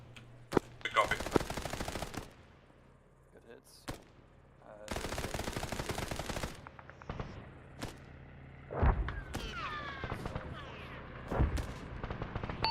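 Bursts of automatic gunfire and heavy weapon fire in a military co-op video game at Farabad, loud and repeated in several long volleys with single shots and thuds between them.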